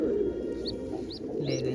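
Pigeons of the Indian Surkha breed, with young birds, give a few soft, brief calls and coos over a steady low background hum, fairly near and alone without talk.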